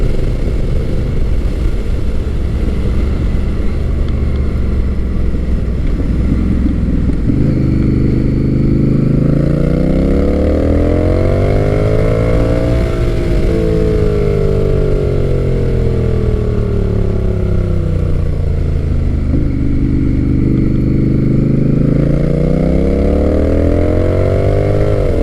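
A loud Honda Rebel 1100 T DCT cruiser motorcycle engine rumbling throughout, its pitch rising and falling as the rider accelerates and eases off, heard close up.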